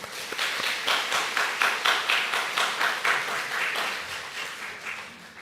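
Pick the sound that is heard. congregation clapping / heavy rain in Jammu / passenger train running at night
congregation clapping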